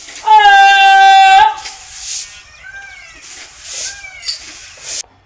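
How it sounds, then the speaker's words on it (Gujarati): A loud, drawn-out peacock call rings out up close, followed by softer, shorter calls and faint murmuring, ending abruptly. "મનસુખભાઈ બોલે પછી મોર તેને જવાબ પણ આપે છે."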